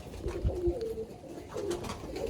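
Pigeons coo softly in a loft, a few low throaty calls repeating close by with light rustling between them.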